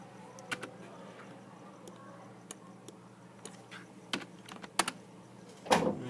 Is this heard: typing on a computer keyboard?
yes